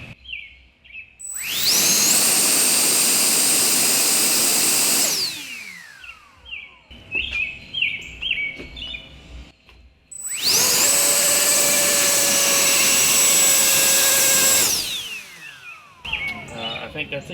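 A 3D-printed drone's electric ducted fans whine up loudly to a high, steady pitch, run for a few seconds, then spool down with a falling tone; this happens twice, with quieter clattering and handling noise between the bursts.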